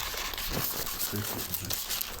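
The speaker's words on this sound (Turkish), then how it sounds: "Telefon kılıfını poşetini gerisini geri kutusuna koyuyoruz." Plastic phone-case bag crinkling as it is packed back into a new phone's box, a steady close rustle and crackle with a voice talking faintly in the background.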